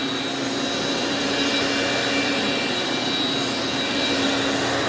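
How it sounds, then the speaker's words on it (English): Commercial vacuum cleaner running steadily with a loud, continuous broadband motor whine and airflow roar, close up and unbroken for the whole stretch, with no voices. "That's what happens when you give a vacuum tender loving care."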